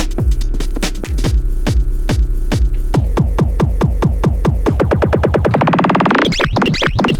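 A chopped, rhythmic loop of repeated hits on an Octatrack sampler that slides and smears in pitch as it speeds up, loud and warbly like tape stretching.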